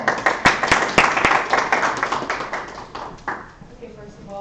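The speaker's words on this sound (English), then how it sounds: "could you please give them a warm round of applause?" An audience at a young adult science cafe claps to welcome speakers, a short round of applause with a few sharp near claps that fades quickly as talking resumes.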